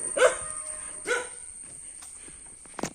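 A dog barks twice in close succession, loud and near, followed by a quieter stretch and a short sharp sound near the end.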